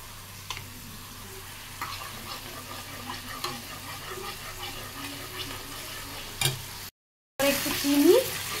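Fried paneer with sugar and garam masala is stirred in a hot pan, a soft continuous sizzle with scraping strokes of a spoon, a brief gap near the end, then a louder burst of sizzling.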